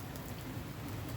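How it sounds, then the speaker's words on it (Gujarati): Steady rain falling in Chhara village during the monsoon, a soft even hiss of drops close by with no other sounds. "વરસાદ આવી ગયો."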